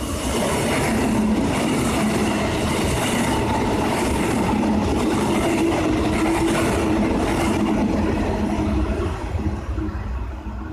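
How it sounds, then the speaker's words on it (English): A Nambour train rolls past on the rails, a loud, sustained rumble with rhythmic clickety-clack from the wheels and a faint squeal, heard up close with no voices. "I had snapped a Nambour train."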